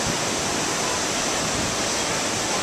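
Big hurricane swell from Hurricane Irene breaks as surf at Sunglow Pier in Daytona Beach, Florida, a loud, steady roar of crashing waves and white water with no pauses.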